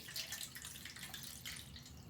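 Water drains and trickles from a bowl of freshly washed cucumber in a kitchen. It gives a faint, steady splashing and dripping with no talk.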